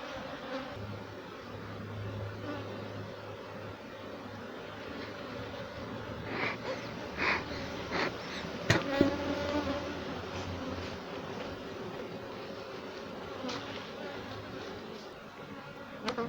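Honeybees buzzing at an open hive during an inspection in Jamaica, a continuous dense hum with a few louder close passes and faint handling noises.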